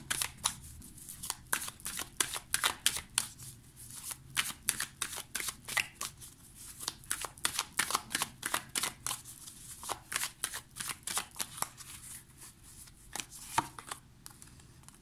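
Luna Somnia tarot cards being shuffled by hand in a quiet room, a long run of quick crisp riffling flicks that come close and steady in uneven bursts, with no voice over them.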